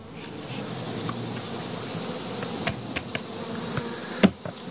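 Honey bees buzz around their colonies as foragers return laden with pollen, a steady hum running throughout with a few brief taps and a louder knock near the end.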